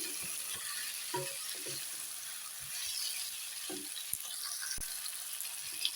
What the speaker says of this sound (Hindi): अब इसे मैं थोड़ी देर के लिए फ्राई करूँगी